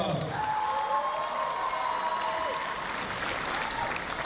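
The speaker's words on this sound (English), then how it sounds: "big round of applause" Sustained applause from a crowd at the Tahiti Fete 2024 event, a dense, even wash of clapping that holds steady throughout without pause.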